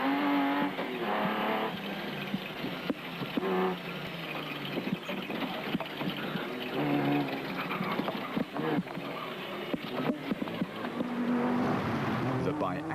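Rally car engine roaring past on a demanding race route during the Lesotho Sun 400, loud and sustained with revving surges, mixed with commentary talk throughout.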